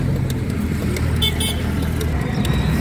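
A car inside a city moves off as the driver presses the accelerator during a driving lesson, a steady close engine hum with road noise and a brief horn toot in the background.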